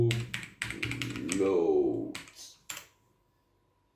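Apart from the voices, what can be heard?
typing a command on a computer keyboard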